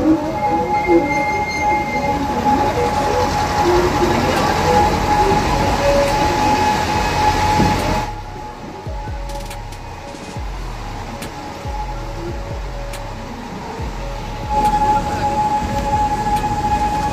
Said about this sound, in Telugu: నాకైతే నిజంగా ట్రైన్ హార్న్ సౌండ్ బాగా నచ్చింది.